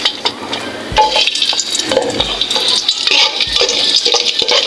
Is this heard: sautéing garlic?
yes